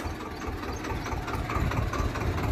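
A Swaraj 724 XM tractor engine, stuck in the ground, idles with a low rumbling, slightly knocking chug that holds steady at moderate loudness, with no talk over it.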